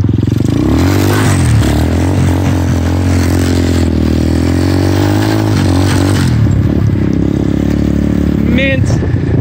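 A converted pit bike trike runs loud and steady close by, its engine droning with a rough, buzzing tone that eases and swells slightly before a short change near the end.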